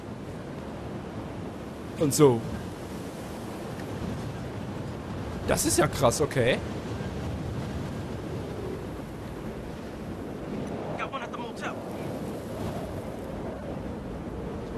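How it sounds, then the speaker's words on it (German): Wind blows across a map in the video game Battlefield Hardline as a steady, low, hissing rush. Someone talks over it in short bursts. "Warum ist denn hier so Wind?"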